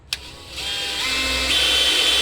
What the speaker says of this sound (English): I'm gonna drill these bolts out